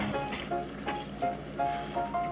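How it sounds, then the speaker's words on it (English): Cabbage simmering in a pan with salt and pepper, a gentle steady sizzle with soft bubbling pops and occasional faint tonal clinks, fairly close and with no talking. "we're just going to let this simmer until the cabbage is tender"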